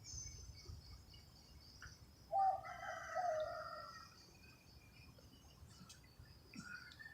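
Outdoors, a rooster crows once at moderate distance, a faint drawn-out call over a quiet background of insect buzz and a few scattered bird chirps.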